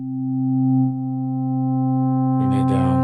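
A sustained synth pad from Omnisphere holds steady tonal layers, swelling slightly, then brighter shimmering textures enter near the end, loud and alone without talk.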